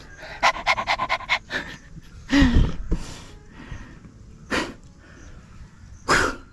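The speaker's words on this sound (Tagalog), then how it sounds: "Hingal na naman oh." Heavy, rapid panting comes in a quick run of short rhythmic breaths, followed by a few louder, harsher gasps spaced apart, close by and with no talking.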